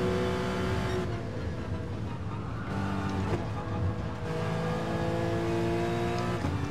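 A race car engine in the GT Royale racing game, droning and revving steadily as it climbs through the gears, with repeated shifts in pitch and no talk over it.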